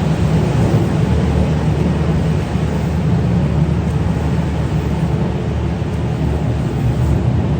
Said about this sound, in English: it's obviously raining really hard